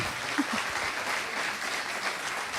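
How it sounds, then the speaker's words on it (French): A large audience claps steadily at a Christian youth gathering, Destiny Camp 4, in praise of God, a dense continuous wash of applause with no talk over it. "Lass uns klatschen für den Herrn."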